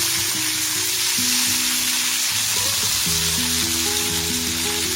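Snacks frying in hot oil with green chillies in a pan over a medium flame, giving a steady, close sizzle that runs without a break. Occasional stirring shows up under it, and nobody speaks.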